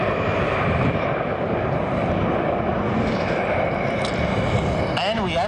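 Aermacchi MB-339 jets of the Frecce Tricolori display team roar past at an airshow in a loud, steady, broadband engine rush that fills the whole span, while a commentator talks over it.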